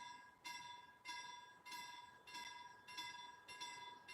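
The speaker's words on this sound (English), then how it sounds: "yeah, I think this is the local train." A local train passing a railroad crossing, with the crossing bell striking in a steady rhythm about every half second over a low, continuous rumble.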